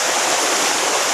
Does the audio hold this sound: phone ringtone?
no